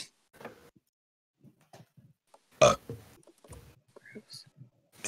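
A single loud, rough burp erupts close to the microphone amid scattered quiet sounds and brief bits of speech.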